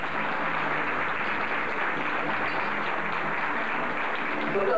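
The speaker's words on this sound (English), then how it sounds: "clap your hands for our honorees today" An audience applauds honorees at a ceremony for women, with steady, dense clapping that goes on without a break and fills the room at an even loudness.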